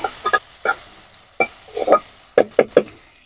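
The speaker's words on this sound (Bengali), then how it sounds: "এটাকে আমি এরকম ভাবে অনবরত নাড়তে থাকবো, যাতে কোনো রকম ভাবে এটা লেগে না যায়" Food being stirred in hot oil in a pan with turmeric powder, close scraping and clattering strokes in uneven bursts over a faint sizzle, with no talking.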